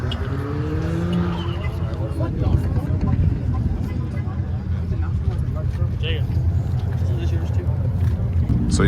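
Fast Ford Flex on a highway cruise from Arizona to Mexico, a loud continuous engine and road roar from inside the cabin, with people talking over it.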